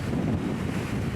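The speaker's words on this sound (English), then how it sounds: "it's quite windy." Wind gusts at an Irish harbour near Rosslare, buffeting the microphone with a steady low rumble. Faint wave wash sits beneath it, and no voices can be heard.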